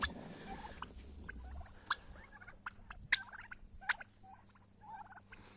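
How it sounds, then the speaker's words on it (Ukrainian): Several turkeys of mixed breeds, including Bourbon Red, gobble and call repeatedly at a moderate distance on a winter pasture, their bursts overlapping in an irregular chorus over a low background rumble. "А ті індики, які не вийшли, кричать на всю горлянку"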